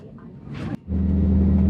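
An airliner's engines at Chennai airport as the plane starts to taxi, heard from inside the cabin: a brief rustle gives way to a steady low engine hum that rises and holds, with faint speech early on.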